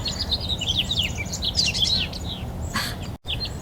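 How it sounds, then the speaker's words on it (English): Several birds chirp and sing in quick, overlapping phrases over a low background rumble, clear and fairly close. "Can you hear all these birds singing away?"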